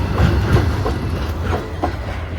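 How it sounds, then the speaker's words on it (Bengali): A loaded freight train rolls past close and loud, wagons rumbling heavily with a rhythmic clickety-clack of wheels over rail joints throughout, no voices. "সেই সুন্দর ট্রেন দেখালাম তোমাদেরকে"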